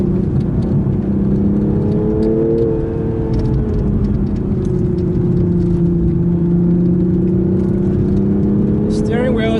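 A 2021 Toyota GR Supra GTS sports car accelerates hard from about 30 to 120 km/h, heard from inside as a loud, steady engine drone whose tones climb and shift through the run.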